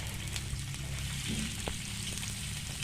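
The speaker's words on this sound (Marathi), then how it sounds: "आता तव्यामध्ये दोन पळी तेल टाकूया आणि त्याच्यामध्ये कांदा कोथिंबीर आणि हिरवी मिरची टाकून चांगलं परतून घेऊया" A soft, steady sizzle of onion, coriander and green chillies frying in oil on an iron griddle continues throughout, with faint clicks and a low hum underneath.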